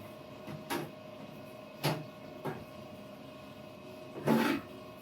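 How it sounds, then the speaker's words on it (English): Plastic clicks and knocks come from removing the back cover of a BestCode inkjet printer, three or four brief, faint taps spread over several seconds against a steady machine hum. "we'll turn the machine around and we'll remove the back cover"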